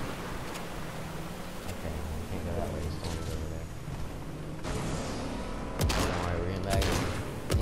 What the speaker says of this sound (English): Oh, we're getting shot, we're getting shot.